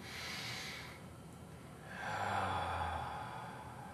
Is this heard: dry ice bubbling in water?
no